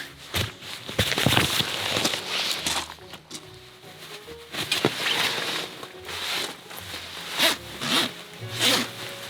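A tent door zipper is pulled in repeated quick bursts, close and crisp, with rustling fabric and pauses between the strokes.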